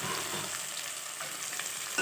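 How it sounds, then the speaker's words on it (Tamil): Bitter gourd and onions fry in oil with a steady, close sizzling hiss that lasts through the whole short clip. "பாகக்காய் சேர்த்து கொஞ்ச நேரம் வதங்கட்டும்"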